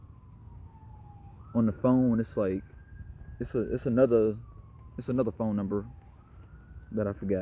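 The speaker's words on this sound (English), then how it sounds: "As y'all can probably hear the police or ambulance in the background, or fire truck" A wailing emergency siren from a police car, ambulance or fire truck sweeps up and down in the background while someone talks over it in a room.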